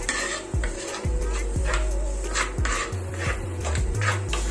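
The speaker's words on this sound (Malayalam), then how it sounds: "ചേർത്ത് കൊടുത്തിട്ട് ഇളക്കി കൊടുക്കാം" A spoon is scraped and knocked repeatedly against a metal pot while stirring Kerala fish curry with kudampuli. The strokes are close and rhythmic over a soft sizzle.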